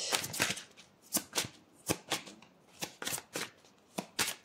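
Tarot cards are shuffled in quick, crisp bursts, the deck riffling and knocking together about ten times in an irregular rhythm, close and fairly quiet with no talking.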